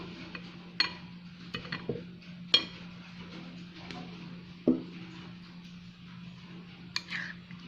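Boiled potatoes stirred into bhajji batter in a bowl, giving sparse, light clicks and taps of a spoon against the vessel over a steady low hum, close and fairly quiet.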